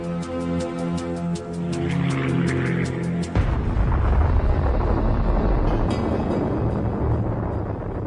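The atomic bomb detonating over Nagasaki arrives as a sudden massive broadband roar, cutting in after a sustained musical tone and rumbling on loudly to the end.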